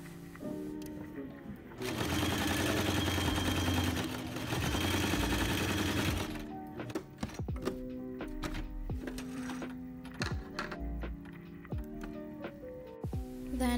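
Sewing machine stitching a homemade dress, running in a sustained burst before shorter stop-start runs, with clicks and thunks between them.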